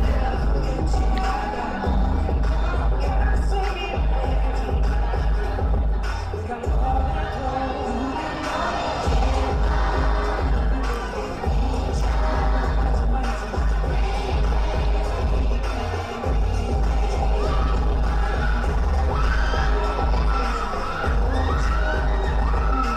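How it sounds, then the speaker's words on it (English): An audience screams and cheers at a K-pop dance cover performance. The high shouts swell and fade continuously over loud, thumping backing music. "Those screams, I love the screams."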